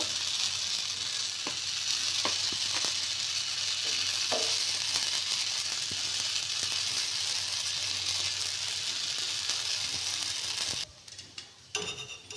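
Flour chow mein sizzles and fries on a hot tawa over a gas flame, a steady hiss with occasional clicks and stirring scrapes, continuous before a dip and scattered ticks near the end.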